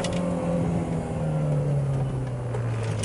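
A manual car's engine drones steadily under load at full throttle up a steep slope, its pitch slowly sliding lower as it strains, loud and continuous with no talking.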